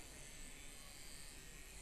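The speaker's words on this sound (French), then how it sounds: "C'est un mini ventilo." A mini handheld fan runs with a steady, even buzzing whir, constant and close throughout, faint in level with no speech over it.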